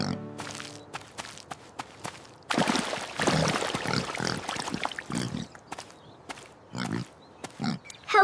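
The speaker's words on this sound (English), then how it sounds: "Let's ask the pigs. They are playing in the dirty mud." Pigs playing in dirty mud, with grunts, snorts and squelching, splashing movement that swells into a busy stretch midway, then breaks into scattered short bursts near and fairly loud.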